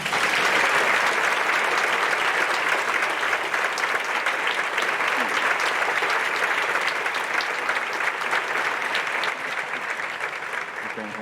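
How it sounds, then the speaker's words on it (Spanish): A theatre audience applauds Lola Herrera with sustained, dense clapping that stays loud and even for about eleven seconds before easing slightly at the end. "Para empezar con Lola Herrera, un aplauso."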